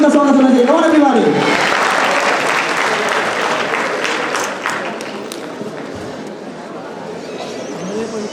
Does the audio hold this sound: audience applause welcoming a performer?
yes